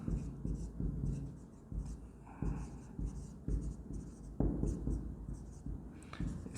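Chalk or marker writing on a board during an accountancy lesson on a cash book, a steady scratchy stroking that comes in short bursts, fairly faint and close.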